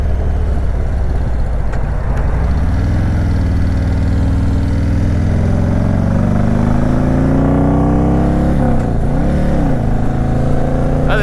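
A customized 2018 Harley-Davidson Road King Special touring motorcycle engine runs steadily and loud throughout, a deep idle rumble with rising revs near the end, close by and alone.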